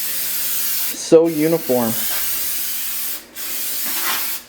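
Aerosol spray paint hissing steadily onto Toyota 4Runner parts, a continuous close hiss broken by a short pause, while a voice briefly talks over it.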